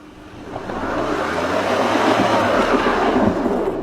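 A Lexus SUV struggling on an off-road obstacle with its wheels slipping, a steady loud engine roar and tyre spin that swells and holds with rumbling, grinding texture throughout.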